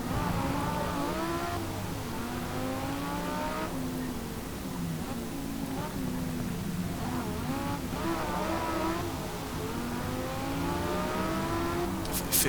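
Race car engines in Forza Motorsport 3, with Corvettes and a BMW on track, rev and accelerate continuously through rising and falling gear sweeps, with brief tire squeal, loud and close throughout.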